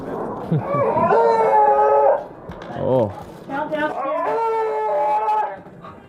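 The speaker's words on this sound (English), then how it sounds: "God, those dogs. Quiet down!" Several dogs bark and howl together in long, wavering cries, with a brief pause between bursts, while people talk nearby.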